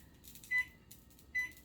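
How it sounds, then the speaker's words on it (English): A kitchen timer being set for one minute while making gluten-free, dairy-free low-carb gravy gives two short, quiet electronic beeps about a second apart over faint room noise. "So I am going to set my timer for 1 minute"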